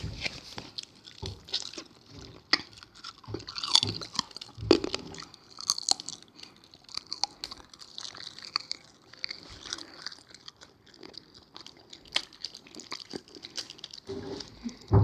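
Hard, stiff portion of an edible tape snack being bitten and chewed up close, with irregular crunchy bites and mouth sounds continuing steadily throughout, no talking.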